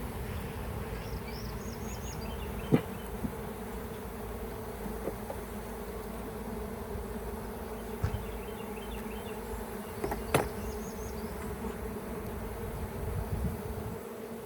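Honeybees buzzing around an open hive during an inspection, a soft, continuous drone close by with a few brief louder buzzes and light knocks, and no voices.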